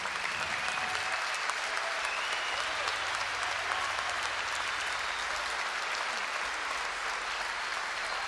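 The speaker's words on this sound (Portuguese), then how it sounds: "para ele uma grande salva de palmas" Concert crowd in Lisbon giving a long, sustained round of applause, dense clapping over a low droning tone from the stage, steady for the whole stretch.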